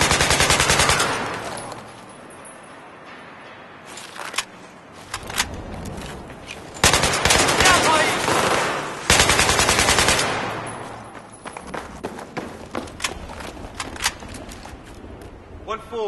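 Heavy gunfire in Battlefield 3 during a night mission, with sustained automatic bursts that come and go in loud waves and scattered shots between them, plus faint voices and footsteps in the background.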